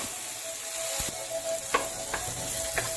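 Chopped onions sizzle steadily in a hot pan as they fry for a crawfish dish, a constant close crackle with a few sharper clicks and scrapes from stirring, no voices.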